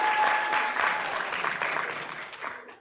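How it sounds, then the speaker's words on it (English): A conference audience applauds at a visionOS app design talk, a moderately loud burst of clapping that gradually thins and fades over a few seconds. "Give me a big applause for me, please."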